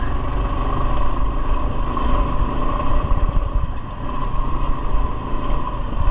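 A Kawasaki KLR650 single-cylinder motorcycle engine drones steadily while riding, with a loud buzzing hum mixed with rushing wind noise, continuous and close with no talking.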